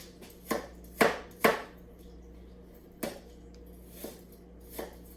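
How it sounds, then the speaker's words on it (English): A knife chops through apples on a cutting board in a handful of sharp, separate knocks, three close together and then a few more spaced out, with a quiet room in between. "we're almost done cutting our apples"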